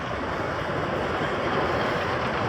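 Revolution, a roller coaster at Six Flags Magic Mountain, rolls by as a steady, fairly loud, broad rumbling roar that holds evenly throughout, with no speech.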